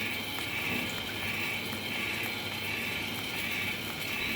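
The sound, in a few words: smart toilet washing spray running, N50 remote control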